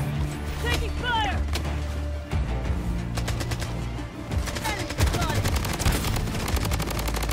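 Rapid automatic gunfire in the BloodStrike battle-royale shooter, with dense bursts of shots and sharp cracks over continuous game noise while players talk over it.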